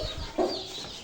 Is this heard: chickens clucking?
yes